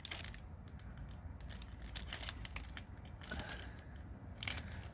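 A glued trading card from a Magic: The Gathering Secret Lair drop being peeled off its packaging: close, dry crackling and tearing with short scratchy bursts and small snaps throughout.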